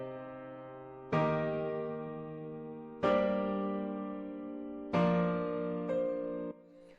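Processed chords with added ambience in a music mix, four rich sustained chords struck in sequence, each decaying with a soft reverberant tail, heard alone without any voices.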